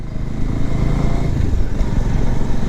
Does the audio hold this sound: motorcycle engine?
yes